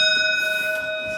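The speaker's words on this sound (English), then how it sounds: "The doorbell." The doorbell of Vincent House rings as a steady, sustained electronic chime with layered tones, heard alone in a quiet room.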